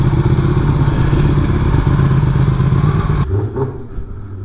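A Ducati Panigale 959 motorcycle runs loud and close with a rough, throbbing engine rumble, then cuts abruptly near the end to quieter clatter and light knocks.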